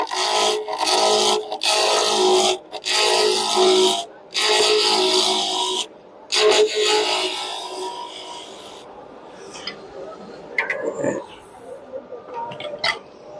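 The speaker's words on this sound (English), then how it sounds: "So we're going to start out with a 3/4 inch roughing gouge." On a wood lathe a 3/4 inch roughing gouge cuts a spinning blank in loud, rasping bursts broken by brief pauses. The cutting fades after about nine seconds, leaving quieter clicks and handling noise.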